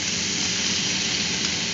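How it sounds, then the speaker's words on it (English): Butter, minced onion and garlic sizzling in a pan, a steady close hiss with no talk throughout. "Now we're going to add our butter, as well as our minced onion and garlic."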